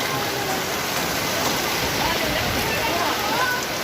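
Steady, dense rain pours down without letup, a loud, even hiss of water spread across the whole clip.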